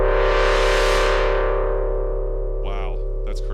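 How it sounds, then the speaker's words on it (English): A loud, sustained Korg Mono/Poly synthesizer tone, harsh and metallic, with fast audio-rate modulation that smears into clangorous ring-mod distortion before a few warbling sweeps near the end. "you're getting that intermodular ring mod distortion"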